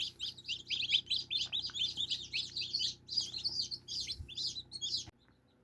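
Dense, rapid high-pitched chirping from many newly hatched chicks being taken from an incubator, continuous and fairly close, stopping abruptly near the end.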